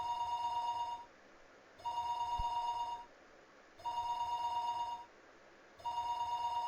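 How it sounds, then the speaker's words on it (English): A telephone rings in the game Higurashi When They Cry: Watanagashi, in steady repeating bursts, each about a second long with short pauses between, clear and moderately loud with no voices. "Her phone would be ringing constantly, though."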